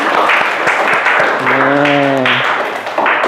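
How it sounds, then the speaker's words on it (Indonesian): A classroom full of students applauds a student group after its presentation. The clapping is dense and continuous throughout, with a voice briefly heard over it. "Tepuk tangan untuk kelompok 5"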